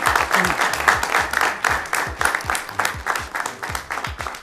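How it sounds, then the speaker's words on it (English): A game show studio audience breaks into lively applause, a dense, rhythmic patter of many hands clapping close by that carries steadily through the whole stretch with slight swells. "Please, a round of applause for Dr. Margaret."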